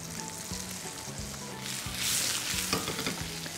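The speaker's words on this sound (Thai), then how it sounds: "ผัดให้หอมใหญ่เขาหอมหน่อยนะครับท่านผู้ชมครับเป็นเหลืองๆหน่อย" Onions stir-fried in melted butter with salt and pepper for Thai-style chicken thighs and potatoes: a steady close sizzle with rhythmic scraping stirs and soft pan knocks, no talking.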